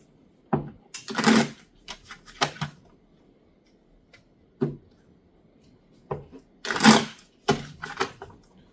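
A deck of tarot cards shuffled and drawn, giving short papery riffles and flicks in two clusters separated by a quiet pause, close and fairly crisp, with no voice.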